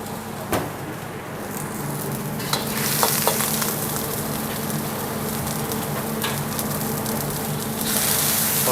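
Oil, garlic and spring onion stir-fried in a restaurant wok, a steady close sizzle with scraping and clanking of the wok and utensils throughout, louder bursts near the start and middle.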